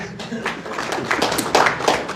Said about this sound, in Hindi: आपके लिए ताली बजाइए